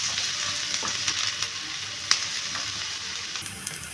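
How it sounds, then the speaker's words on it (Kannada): Chopped onion for egg puff stuffing frying in a pan, giving a steady, moderately quiet sizzle with scattered crackles and light stirring scrapes and no voices. "ನೋಡಿ ಈ ಥರ ಸ್ವಲ್ಪ ಫ್ರೈ ಮಾಡ್ಕೋಬೇಕು."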